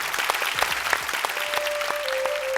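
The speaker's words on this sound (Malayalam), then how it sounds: "ഒരു നല്ല കൈയടി" Steady applause from a studio audience for a comedian in a comedy show, sustained and fairly loud across the whole moment, with a faint tone running underneath partway through.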